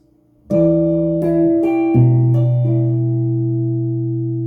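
An acoustic guitar plays the chord part of a song: a few plucked notes and chords ring out loud and close after a short silence, sustaining and overlapping as they fade.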